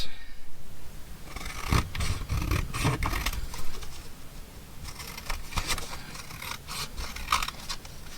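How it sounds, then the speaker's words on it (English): Scissors cut out paper pieces for a craft project, making repeated close snipping and rustling paper sounds at an uneven pace. "Okay, so let's cut these out."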